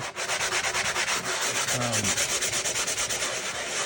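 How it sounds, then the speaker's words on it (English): Steady, rhythmic scraping of a coarse sanding block rubbing back and forth across drywall, close and continuous with no talking. "I decided to use a little bit coarser sanding block this time"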